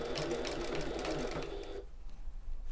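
Sewing machine back stitching across the top of a fabric tote bag: a steady, close, buzzing whir that runs for nearly two seconds, then cuts off abruptly into near silence.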